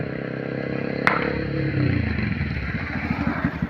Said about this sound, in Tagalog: may motor na naman.